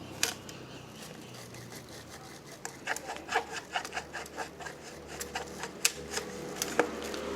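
A drip irrigation hose is punched with holes, giving faint, irregular tapping and rasping clicks over a quiet background hiss, with no talking.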